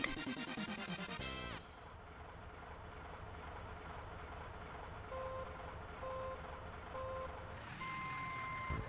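A truck driven in a Super NES game, heard as a steady synthesized engine drone with bursts of game music and repeated electronic beeps at the start and middle, loud and continuous without talk.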